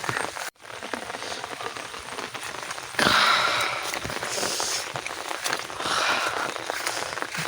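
Steady rain falling onto surfaces outdoors, a continuous crackling patter that dips briefly near the start and swells a little louder after three seconds, with no talking.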